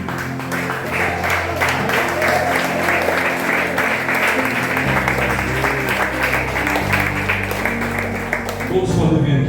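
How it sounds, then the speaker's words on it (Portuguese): A church congregation at an evening praise service applauds loudly and continuously, a thick wash of many clapping hands with a low hum underneath that holds for the whole stretch. "vamos aplaudir o Senhor da vida"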